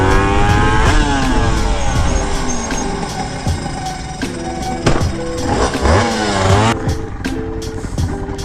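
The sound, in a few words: 636 motorcycle engine accelerating at speed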